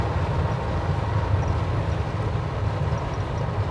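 A 1965 Chevy pickup restomod with a fuel-injected Chevrolet Vortec engine cruises at highway speed, a steady broadband engine and road roar heard from inside the cab.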